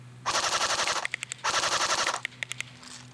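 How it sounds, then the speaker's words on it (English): A CYMA CM.036 AKM airsoft rifle fires on full auto in two sustained rapid bursts, a buzzing mechanical rattle, then several quick single cracks, close and loud outdoors. "Let's go full auto with this gun."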